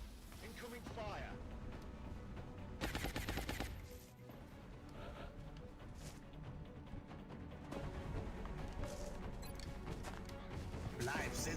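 Incoming gunfire in the XCOM Long War video game: bursts of automatic shots and heavy impacts crackle over a constant battle din, with voices speaking among the shooting.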